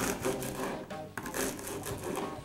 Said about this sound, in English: we're just going to go ahead and start cutting little cubes out of the bread